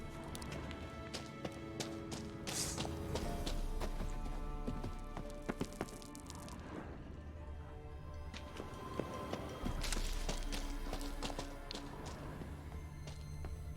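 Horse hooves in The Witcher 3, a steady clip-clop of a ridden horse moving at a brisk pace, rhythmic and fairly close, continuing throughout with faint ambient sounds and no talk.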